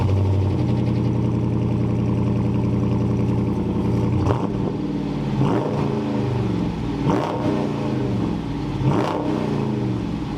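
A Dodge Challenger on its stock exhaust idles steadily close by, then is revved several times in quick, rising blips with a clattering, throaty tone, each rev falling back to idle.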